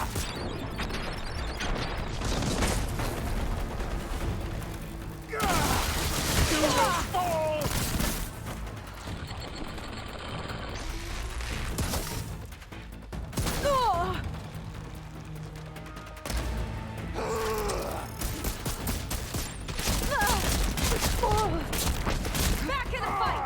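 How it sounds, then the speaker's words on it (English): Heavy cannon fire in the video game Horizon Forbidden West, repeated booming blasts and bursts of gunfire in loud rushes, with a voice talking over the combat and stretches of quieter rumble between volleys. "I love this cannon!"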